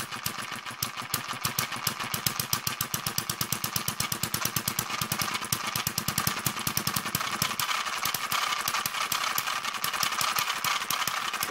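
A Kerzel hit-and-miss model engine, still running in with a stiff governor and tight, noisy gears, chugs in a rapid, steady train of sharp firing beats with metallic clatter. It is loud and close throughout, with no talking.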